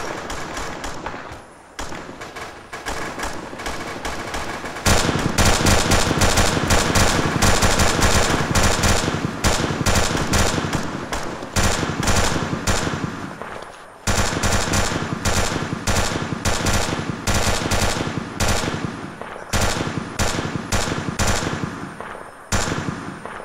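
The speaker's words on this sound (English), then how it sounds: "Lay down suppressive fire." Suppressive machine gun fire in a video game roars in long, loud sustained bursts, broken by a few short pauses, dense and continuous with no talk over it.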